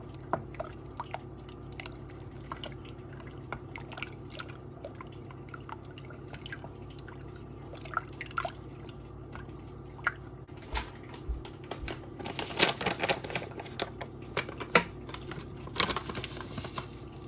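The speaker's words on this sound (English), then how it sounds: "I'm mixing the sourdough starter with the water to combine." Sourdough starter is stirred into water in a bowl, giving soft wet clicks, drips and squelches in an irregular rhythm that grow busier toward the end, close up, with no talking.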